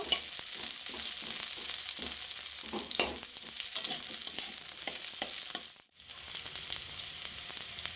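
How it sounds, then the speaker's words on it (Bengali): Steady sizzling and crackling of spices with fresh and dried chillies frying in hot oil, with occasional stirring scrapes and a brief dip midway before the sizzle resumes. "আমি একটু ভেজে নেব"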